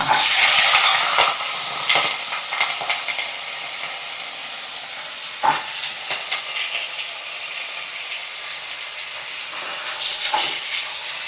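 Wet knol khol (kohlrabi) pieces hit a hot pan with a loud burst of hiss, then settle into a steady sizzle with occasional spatula scrapes and knocks. No one talks.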